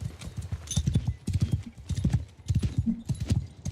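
Horses' hooves clip-clop in rapid, uneven bursts of close, thudding steps in the video game Bannerlord, with a faint whinny among them.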